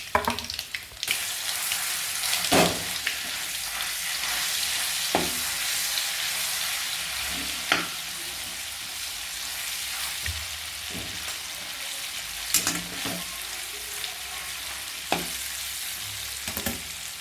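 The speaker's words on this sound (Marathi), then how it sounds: "थोडीशी हळद वाट्यावर वाटलेले वाटण घालूया" Ground masala paste with a little turmeric fries in oil for a village-style brinjal dish, sizzling steadily while a spoon scrapes and stirs the pan at irregular intervals, close and moderately quiet, without speech.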